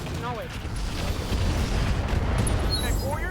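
Heavy booming weapon fire from a mech shooting slug ammunition at a light sniper turret in the RogueTech battle game, a loud continuous rumbling barrage with a few whistling tones, while a voice talks over it.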